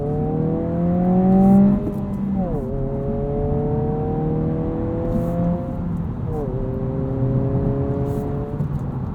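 A 2022 Honda Civic Si sedan with a manual transmission driving on an ordinary road, its engine droning steadily and rising in pitch through the gears, with two clear shift dips, under constant road and cabin noise.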